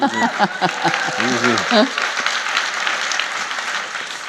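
Audience applause at a GreenBiz 25 keynote, a steady broadband patter of clapping that swells briefly and then carries on at an even level, heard after a voice speaks at the start.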